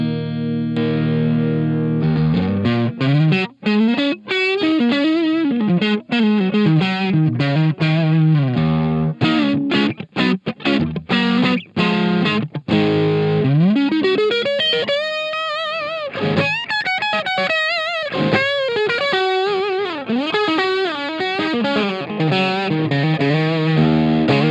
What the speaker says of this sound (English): Now let's listen to the overdrive first.